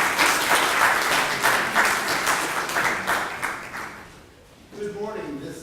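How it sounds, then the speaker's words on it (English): Audience applause for a senior choral group at a mayor's national service recognition event, sustained dense clapping from a crowd that fades out before a voice and a brief tonal sound begin at the end. "Give them another round of applause as they prepare."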